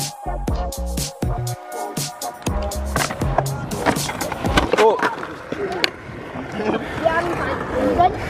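A skateboard rolls and clatters over pavement with sharp knocks and scrapes, loud and close, mixed with rushing wind, during a session of kids practising pumping and riding.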